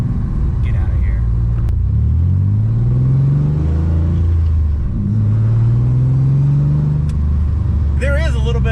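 A supercharged V6 Firebird engine revs in two long rising sweeps, with a deep, loud exhaust note and a slight supercharger whine, and a brief high whine rising near the end.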